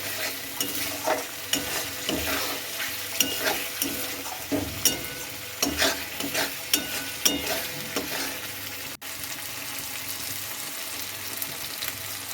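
Spices for khichuri sizzle in hot oil while a spoon stirs and scrapes the pan in irregular strokes, the frying hiss steady and close with clattering stirs throughout.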